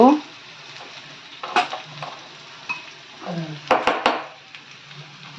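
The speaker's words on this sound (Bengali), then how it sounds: "লঙ্কা গুঁড়ো কষিয়ে নেব মশলাটাকে" Chili powder masala with turmeric and cumin is sautéed in a pan for aar fish, producing a soft sizzle broken by scraping stirs and clinks of a spatula against the pan, while someone talks over it.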